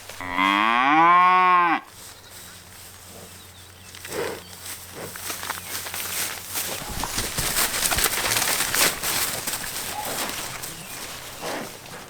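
A bull on a farm gives one loud, long moo close by, followed by quieter rustling and movement outdoors.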